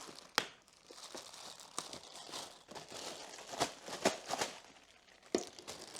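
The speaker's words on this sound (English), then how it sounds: "Gonna unwrap the handle as well." Plastic packaging being pulled off the handle of a Shark Professional Steam Pocket Mop S3601, with quiet crinkling broken by sharp, irregular rustles and tearing crackles.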